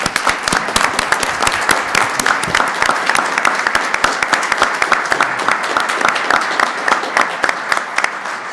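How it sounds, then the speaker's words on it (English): A city council meeting audience gives a round of applause for a man, loud dense clapping from many hands with crisp individual claps, continuous for over eight seconds. "let's give the man one more round of applause."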